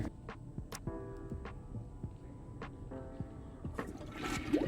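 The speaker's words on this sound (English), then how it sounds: "Sounds like my toilet's leaking." Leaking toilet water in the video game Back to the Dawn runs as a continuous low gurgling, rushing flow with scattered drips and clicks over a steady hum.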